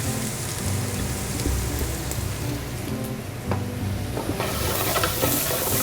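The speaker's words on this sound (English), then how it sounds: "I'm gonna saute some onion, celery, and garlic." Onion, celery and garlic sauté in olive oil in a hot pan, giving a dense, loud, rain-like sizzle that holds steady throughout and rises toward the end, with faint stirring scrapes.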